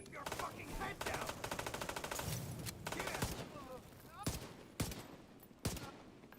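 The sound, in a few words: gunfire with recoil in the video game The Division 2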